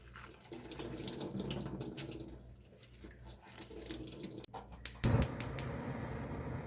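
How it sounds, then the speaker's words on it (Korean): Spring cabbage is rinsed under a running kitchen tap, a steady close splash of water with shifting gurgles and a brief louder burst of spattering toward the end. "깨끗하게 헹궈 줍니다. 세 번 정도 헹궈서 물기를 꼭 짜주세요."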